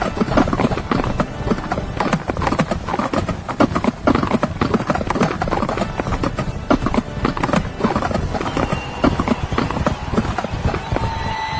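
Racehorses gallop in an animated horror cartoon, their hooves making a dense, loud, continuous drumming that fills the whole stretch.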